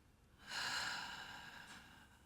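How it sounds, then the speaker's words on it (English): A person takes one long, deep exhale during a guided breathing exercise, a soft airy breath heard close up in a quiet room, followed by a faint trailing breath. "and exhaling."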